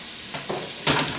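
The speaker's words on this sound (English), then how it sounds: "I'm now going to add some onions" Onions go into a pressure cooker with a short burst of hissing sizzle and a couple of soft scraping thumps, close and brief.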